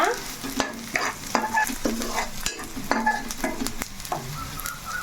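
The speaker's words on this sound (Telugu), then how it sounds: "ఈ ఉల్లిపాయలు ఇంకొంచెం వేగాలండి మనకి బ్రౌన్ కలర్ వచ్చేటట్టుగా వేగాలన్నమాట" Sliced onions frying in a pan until brown, a loud continuous sizzle with frequent scraping strokes of a spatula stirring them, close up and without talk.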